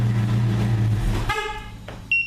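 A Ford Mustang GT with a two-way aftermarket alarm and remote start gives a loud electronic chirp after the engine's low idle hum stops, then a short high tone follows near the end.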